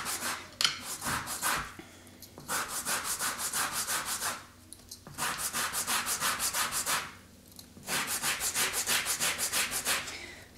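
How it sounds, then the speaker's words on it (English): Orange being zested against a metal grater, rhythmic rasping strokes in three long bursts separated by short pauses, close and fairly loud with no talking. "So we just keep turning the orange until we've gotten most of the zest off the whole orange."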